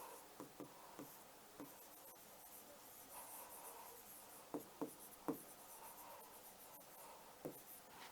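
A teacher writes on a classroom board, giving faint, scattered chalk taps and scratchy strokes, some clustered in quick pairs, close but quiet over a steady background hiss, with no talking.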